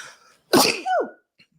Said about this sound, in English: His sneeze.